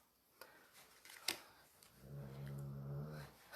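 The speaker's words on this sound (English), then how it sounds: "My dog is just moaning and groaning." A dog moaning indoors: faint rustles and clicks at first, then a drawn-out low, tonal groan that swells and holds for over a second before fading.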